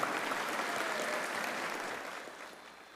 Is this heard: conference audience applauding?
yes